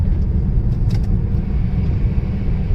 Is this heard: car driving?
yes